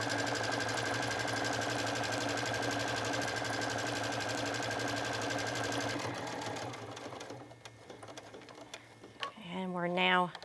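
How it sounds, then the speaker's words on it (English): A sewing machine stitches a fabric bag divider at a steady whirring hum for several seconds, then stops and leaves a quiet room with faint clicks. A voice speaks near the end. "And we're now finish up this stitching here"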